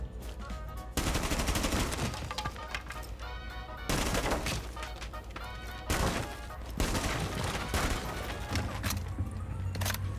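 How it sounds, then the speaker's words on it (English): Gunfire into a barricade in the video game Rainbow Six Siege: loud bursts of rapid shots separated by short pauses, roughly four volleys, close and dominant with no talk. "So you want to shoot about like 16 bullets"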